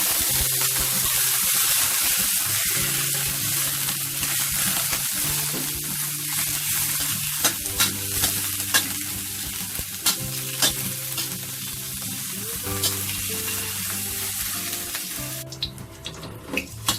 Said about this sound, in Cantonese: 爆一爆呢個雞油